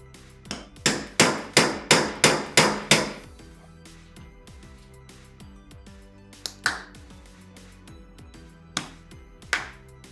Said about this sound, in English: And then we can start twisting it and prying the case open.